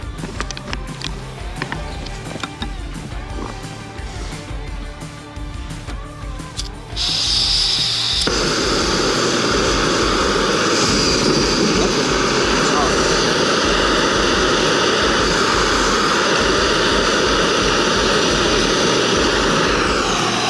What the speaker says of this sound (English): We'll go ahead and get this started on the MSR Pocket Rocket 2.